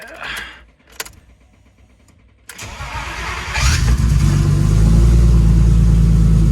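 A BMW car engine cranks briefly and catches, then settles into a loud, steady idle rumble up close, after a few quiet clicks and thumps.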